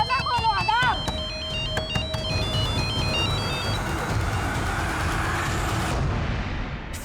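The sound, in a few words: phone ringing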